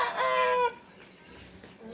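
A young rooster gives one short crow close by, and the last moments fall quiet.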